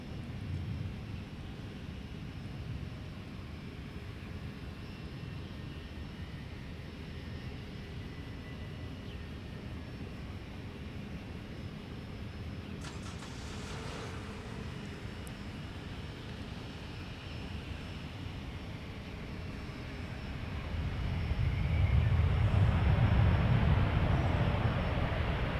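A Delta airliner arriving from Amsterdam at Minneapolis–Saint Paul airport, heard as a steady distant jet engine rumble with low wind noise, swelling louder and closer toward the end as the plane nears.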